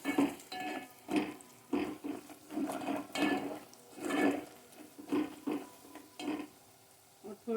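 Garlic and dry spices roast in a pan while being stirred for Pakistani methi aloo, with soft sizzling under repeated scraping and clinking strokes of a spoon against the pan in an uneven rhythm.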